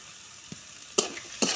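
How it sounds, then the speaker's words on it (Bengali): Chicken skin fries in a little oil in a pan, with a soft background sizzle broken by two or three brief scraping stirs over little more than a second, with no voices. "এটাকে ভালোভাবে ভেজে নেব।"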